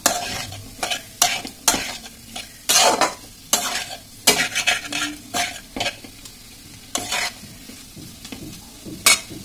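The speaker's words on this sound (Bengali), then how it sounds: "ভালোভাবে আমি এর সঙ্গে আলুটার সঙ্গে মশলাটা কষে নেব।" Potatoes and spices being stirred and fried in a pan for a matar aloo curry, with repeated loud scraping strokes of a spoon against the pan over a steady soft sizzle, close up, no talking.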